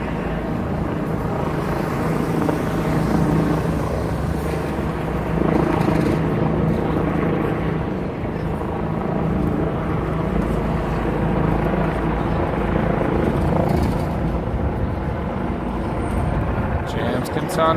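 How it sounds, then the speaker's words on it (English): A large police helicopter hovers over a Greenwich Village street in New York City, its steady rotor roar and engine drone filling the air loud and continuous, mixed with street noise and people talking. "Yeah, that's a helicopter right there."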